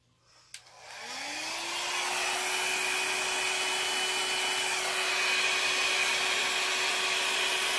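Paint blower on its cool setting, taped to stay on, pushing poured acrylic paint around a Prizm pour; a short click, then a steady, fairly loud whirring airflow that rises as it spins up and holds.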